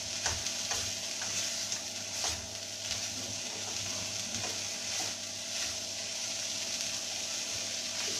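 Cluster beans with garlic and spices stir-fry in a pan, a steady soft sizzle broken by intermittent scraping stirs of a spoon, close and fairly quiet with no talking.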